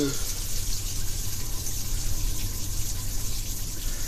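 Water pours out steadily while work goes on under a 1982 Ford F100 on a hot day, a continuous close splashing gush with a faint voice in the background.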